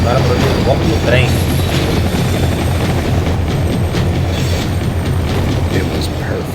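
A train in the video game Max Payne 3 gives a loud, continuous rumble with rattling clatter, overlaid with game effects and some speech.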